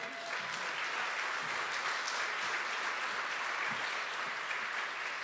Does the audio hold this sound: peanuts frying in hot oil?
no